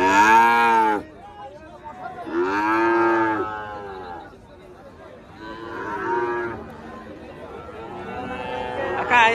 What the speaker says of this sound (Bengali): এইগুলো হচ্ছে বকনা বাছুর।